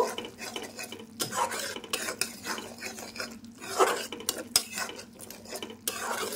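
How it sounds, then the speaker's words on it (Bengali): A spoon stirring a yogurt-based eggplant dish in a pan, with repeated scraping and clinking strokes against the metal over a faint sizzle, close and irregular in rhythm. "এর সাথে আর একবার একটু আমি নাড়িয়ে চাড়িয়ে দেব"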